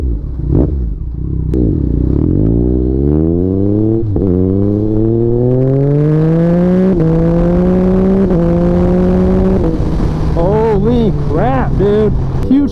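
A 2021 Yamaha MT-09 motorcycle with a flashed ECU revs hard through several rising gear pulls, each climbing in pitch before a shift, ending with crackling exhaust pops; loud and close, with talk over it.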